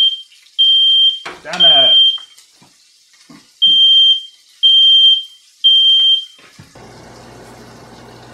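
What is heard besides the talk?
smoke detector alarm beeping while searing steak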